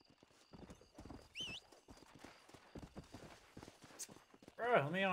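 Horse hooves clip-clop in the video game Red Dead Redemption on PS5, rhythmic footfalls under frequent speech, with a short whinny and a loud burst near the end.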